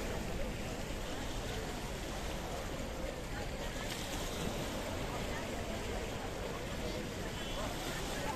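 Waves wash and lap continuously around boats in Paphos Harbour in Cyprus, a steady broadband seaside wash with wind, no distinct events standing out.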